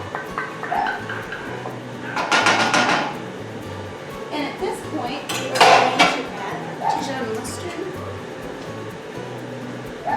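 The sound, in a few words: sauce poured back into a pan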